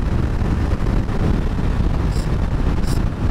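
Wind roars steadily across a motorcycle rider's helmet microphone at speed, a loud, dense rush that never lets up, with two faint high chirps near the end.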